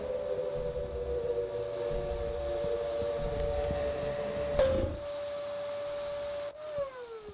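A strong vacuum in the video game The Classrooms gives a steady, loud mechanical drone with a sustained whining tone, then winds down in pitch near the end.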